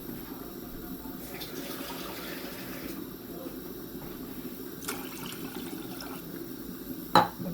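Water poured into a pressure cooker fitted with a stand, about two glasses' worth, in a home kitchen; a steady running-water wash fills the whole stretch at even loudness, with a sharp clink near the end.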